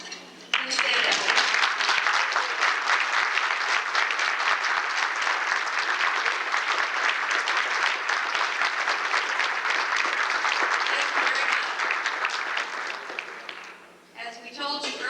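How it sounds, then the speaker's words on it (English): An audience at a luncheon applauds honors conference students with dense, sustained clapping that stays steady for about twelve seconds before fading, then a brief pickup at the end. "so we can give you a round of applause"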